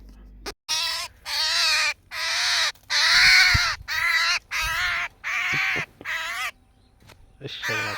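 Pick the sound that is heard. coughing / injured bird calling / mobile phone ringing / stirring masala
injured bird calling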